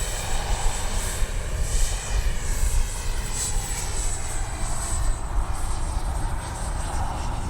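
Steady roaring whine of a radio-controlled F-15 model jet with twin 64mm electric ducted fans, flying with its landing gear retracted; a continuous airborne drone with faint swells, heard without talk.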